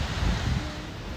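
Gusty wind buffets the microphone, a low, rumbling roar with a rough, steady texture through the whole short moment.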